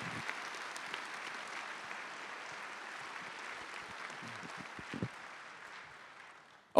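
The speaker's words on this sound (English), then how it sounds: "please give them a round of applause" Audience at a university lecture event applauding, a steady, fairly distant wash of clapping that holds evenly and then tapers off.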